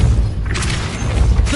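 A Depulso spell in the game Hogwarts Legacy, a loud booming thud with a rushing burst of noise that swells midway and holds, steady and close.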